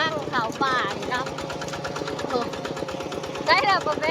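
A farm tractor engine chugs in a steady, rapid rhythm on a forest outing, running continuously under people talking.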